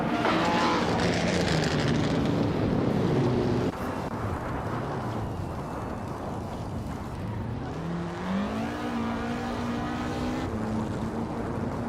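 Race cars speeding in a racing video game, high revving engines whining and shifting pitch as they pass, a loud whoosh then a quieter stretch before engines climb again through gear changes.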